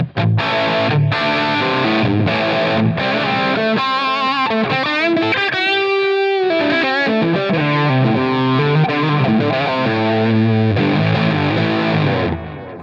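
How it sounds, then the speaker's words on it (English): Heavily distorted electric guitar, a Yamaha Revstar 620 on the bridge pickup through a Line 6 Helix plexi amp model, playing sustained chords and riffs, loud and continuous, with a brief pause of ringing notes midway. "this is where the amp is generating the distortion"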